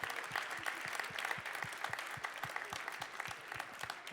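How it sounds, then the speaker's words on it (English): Audience applause at the World Barista Championship final in Seattle 2015, a steady wash of distant clapping with a regular low thumping running beneath it throughout. "So a big round of applause for those guys,"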